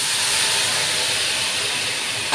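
Shrimp stock poured into eggplant cooking in a pan, giving a steady loud sizzling hiss throughout with a brief burst of louder splashing at the very end.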